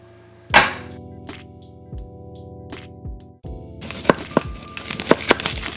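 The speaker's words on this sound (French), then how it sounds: "Passons au coupage des oignons." Knife chopping onions on a board, a few sharp separate chops at first, then a quicker run of crisp, close cuts with a faint hum in the background.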